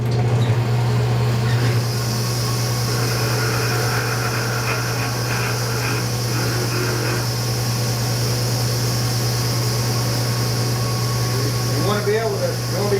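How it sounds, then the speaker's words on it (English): A lathe spins up to sharpen a travisher, giving a steady motor hum with a constant low drone and broadband whir that holds evenly throughout, a few faint clinks near the end, no talking. "So let's crank the lathe up"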